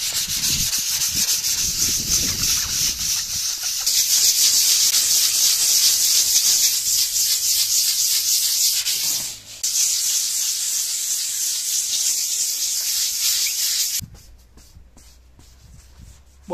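Light hand sanding of a lime and gypsum plaster finish with fine 220-grit sandpaper, a steady soft rubbing hiss that runs continuously and fairly close, easing off near the end.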